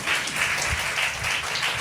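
A congregation inside a church applauds in a sustained wash of many hands clapping at once, even and fairly loud throughout, with no voices standing out.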